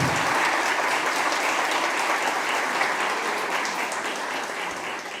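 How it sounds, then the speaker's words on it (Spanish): An audience at an educational leadership event in Ecuador applauds steadily for a camera shot, a dense, sustained wash of many hands clapping that fades slightly toward the end. "un aplauso por favor, aplausos para la cámara"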